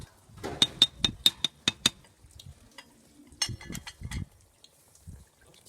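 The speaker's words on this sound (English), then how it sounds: "I won't stir everything, but I'll just give it a mix on top" A spoon knocks and scrapes in a pot of thickening brown beans, the Zambian dish kabulangeti, with a quick run of sharp metallic clinks followed by softer scattered stirring sounds.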